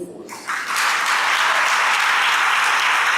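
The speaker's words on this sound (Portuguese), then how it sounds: "Pode aplaudir com força." A church audience bursts into loud, sustained applause, the clapping swelling within half a second and holding as a dense, even roar of many hands.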